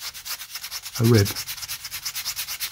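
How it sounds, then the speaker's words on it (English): Sandpaper rubs across balsa tail ribs of a model aircraft in quick, even back-and-forth strokes, a dozen or so close scratchy passes, with a brief spoken word partway through. "you're always presenting a diagonal line to what you're sanding"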